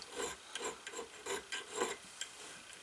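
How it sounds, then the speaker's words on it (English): A small round chainsaw file rasps across the steel face of a budget leathercraft hammer in quick repeated strokes, close and fairly quiet, each pass a short scraping burst. "But then I come in with this little chainsaw file,"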